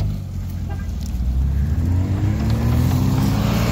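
An off-road vehicle engine drones loudly and steadily as it drives through clay. The pitch climbs gradually as it revs, and there is no talk.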